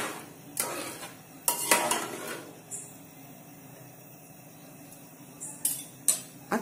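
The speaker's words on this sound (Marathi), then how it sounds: "मीठ थोडंसं जास्त टाका, कारण की भाताला ते लागलं पाहिजे। आणि छान मिक्स करून घ्या।" Salt being stirred into rice with a spoon in a pot, giving a few scraping, clinking strokes separated by quieter pauses.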